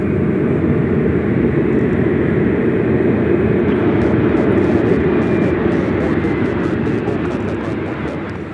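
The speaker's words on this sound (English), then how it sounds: "This arrival is Delta Airlines 2983 coming in from Minneapolis on the A319." A Delta Airlines Airbus A319 jet arriving at LAX from Minneapolis gives a broad, steady roar that stays loud and then eases slightly toward the end.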